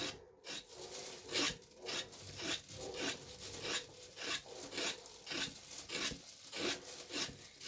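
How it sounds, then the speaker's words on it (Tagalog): A hairy gourd (winter melon) has its fuzzy skin scraped in steady rhythmic strokes, each a close, raspy rub repeated roughly every half second with no talking. "Kaliskisan mo lang yung kanyang balahibo."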